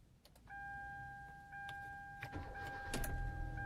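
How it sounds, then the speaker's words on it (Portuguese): Hyundai Veloster started with the remote key: two steady electronic tones hold throughout, with short clicks and a rising mechanical whir near the end as the engine turns over, no talk. "você vem com o controle e vai conseguir ligar o carro"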